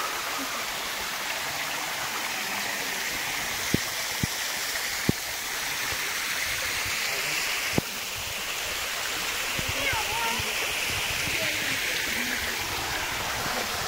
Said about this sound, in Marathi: खूप मस्त असं वॉटरफॉल आहे इकडं।